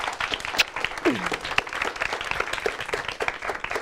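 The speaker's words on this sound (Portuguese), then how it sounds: "Uma salva de palmas para a nossa produtora da Beijo." A studio audience on a Brazilian talk show claps for the show's producer, giving short, moderately loud applause with distinct individual claps and a few faint voices mixed in.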